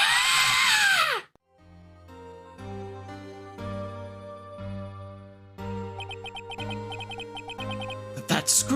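A loud, shrill scream in Ace Attorney bursts out at the start and cuts off after about a second, followed by tense game music and chiming effects.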